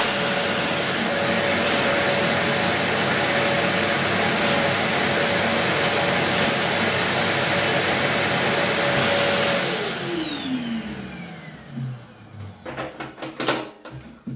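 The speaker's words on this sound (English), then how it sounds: "Turn on the vacuum." A Parkside PWD 30 B1 wet and dry vacuum cleaner runs with a loud, steady whooshing roar, then winds down with a falling whine. A few clunks and taps follow near the end.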